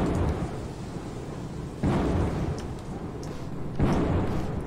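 Thunder from lightning strikes in the party video game Pummel Party rumbles in a steady low roar, with two sharper cracks hitting at regular intervals, loud and close with no voices.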